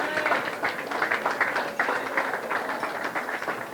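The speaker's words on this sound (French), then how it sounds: "Est-ce qu'on peut applaudir très fort?" Applause from a church wedding congregation, a steady, dense patter of many hands clapping throughout, loud and close with no talk over it.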